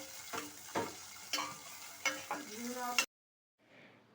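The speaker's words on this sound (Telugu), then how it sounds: "ఇవి లైట్‌గా ట్రాన్స్పరెంట్‌గా అయ్యేంత వరకు మాత్రమే ఫ్రై చేసుకుంటే సరిపోతుంది." Sliced onions fry in oil in a kadai for Guntur gongura chutney, giving a close sizzle broken by several scraping stirs before cutting off abruptly, followed by a faint sizzle after a short silent gap.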